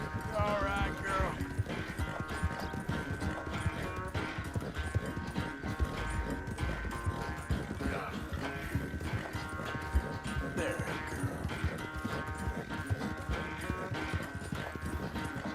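Horse hooves clip-clopping at a gallop in a Red Dead-style western video game, a rapid steady rhythm of thuds under busy game audio and music, occasional whinnies.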